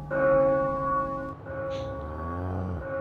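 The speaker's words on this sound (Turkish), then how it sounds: "Çanlar çalıyor." Church bells ring loudly and steadily in an animated game scene, their sustained metallic tones overlapping and swelling through the whole stretch.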